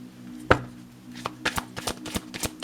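Oracle cards being shuffled by hand at close range, a sharp tap followed by a string of quick, light flicking and slapping clicks, irregular and fairly quiet, with no talking.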